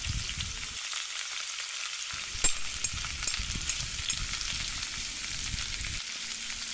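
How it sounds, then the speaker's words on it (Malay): Curry spice blend of chili powder, turmeric, meat curry and kurma spices fries in oil in a pan for chicken curry, a close, continuous sizzle with faint stirring scrapes and one brief clink. "Gaul rempah-rempah ni sampai dia terbit minyak"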